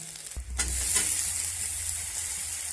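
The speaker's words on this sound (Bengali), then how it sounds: "টমেটোটা দিয়ে আমি এবার একটু নেড়ে চেড়ে নেব।" Chopped tomato hits hot oil with lightly fried onion in a pan, a short clatter followed by a steady, close frying sizzle that holds evenly for a couple of seconds with no talking.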